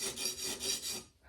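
Tora MK1 FW khukuri blade drawn across T2 sharpening stones, a close, steady rasping scrape in rhythmic strokes that fade out at the end.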